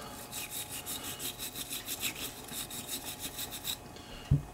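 A brush scrubs back and forth over the chamber end of a Single Six revolver cylinder during cleaning, making a quick, steady rasping rhythm of many short strokes that ends with a small knock.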